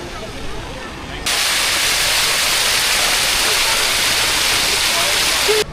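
A resort pool water feature with a figure spitting water, a steady broadband splash and rush that starts abruptly and stays loud and close, with a voice talking faintly early on.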